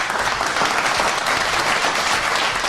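An applause sound effect plays on a live news stream, a loud, dense burst of crowd clapping that holds steady throughout without fading.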